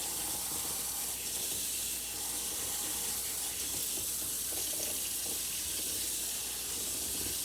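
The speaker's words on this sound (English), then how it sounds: "get the hot water on it quick" Hot water runs steadily from a kitchen tap into a sink, a continuous close hiss and splash that holds at an even level from start to end with no talk.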